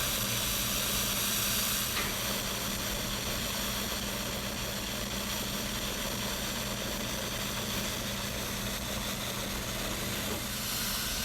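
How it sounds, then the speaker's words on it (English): An Instant Pot coming up to pressure gives a steady, loud steam hiss with spitting and sputtering over a low rumbling hum, continuous throughout with no talking. "You get a lot of steam and some spitting and sputtering as it's coming up to pressure."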